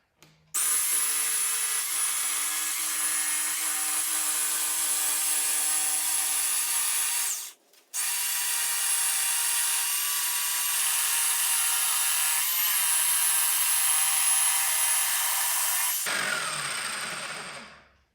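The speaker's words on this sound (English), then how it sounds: "Now I'm using a pretty coarse wood blade, and it's probably not doing it any good, but so what?" Power saw fitted with a coarse wood blade cutting through an old Harley-Davidson Fatboy rear tire, a loud steady high whine running for about seven seconds, a brief pause, then another long continuous cut before winding down.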